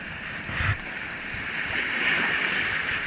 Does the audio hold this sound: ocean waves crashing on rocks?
yes